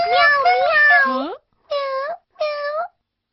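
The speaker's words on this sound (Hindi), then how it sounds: "म्याऊ, म्याऊ।" A cat meowing in a cartoon: one long drawn-out meow followed by two shorter ones, loud and close, with clear pauses between calls.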